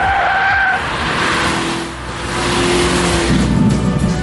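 A Lotus Elise lightweight sports car drives on the Silverstone circuit, with loud, continuous engine noise, tire squeal and shifting pitch that dips briefly midway before surging again.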